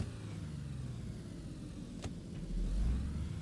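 A car engine in the DayZ game map Livonia gives a steady, low, close rumble that swells louder near the end, with no talking.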